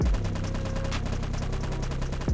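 Rifle fire in the mobile game LifeAfter while strafing side to side, a rapid evenly spaced stream of shots forming a steady rattling burst, loud and close, ending abruptly.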